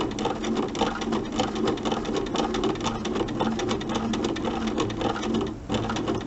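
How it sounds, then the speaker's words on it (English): A sewing machine stitches in the ditch while quilting a mini quilt, a steady, close mechanical whirr that runs almost without a break, dipping briefly near the end. "It's kind of like stitching in the ditch around the outside here."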